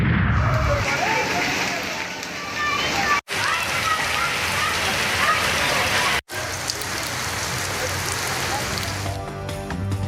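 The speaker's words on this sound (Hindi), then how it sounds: "जामशोरों मीरपुर खास में मूसलाधार बारिश, दादू और सेवन में तेज बारिश" Heavy torrential rain pours down steadily in Karachi during urban flooding, a dense loud hiss of water striking surfaces with two brief cuts in the sound.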